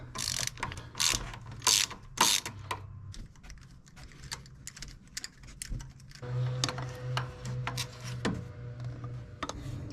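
A hand ratchet loosens two 10 mm bolts on the EGR valve of a pickup truck, giving bursts of fast, close clicking with short pauses between turns, and no voices.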